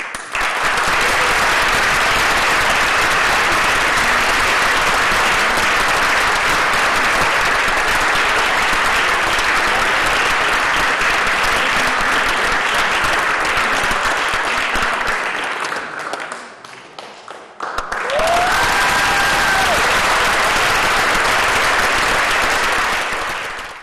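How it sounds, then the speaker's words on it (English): An award ceremony audience applauds for a long stretch, dense loud clapping that dips and nearly stops, then swells again with a brief tonal sound before fading out. "And I think we should give him an applause."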